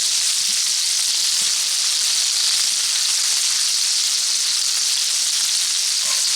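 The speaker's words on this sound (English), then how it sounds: "rotate the pan there to make sure everything is getting coated and simmering nicely" Sous vide beef tenderloin steaks searing in a pan, giving a loud, continuous, even hiss of sizzling fat that holds steady throughout without pause.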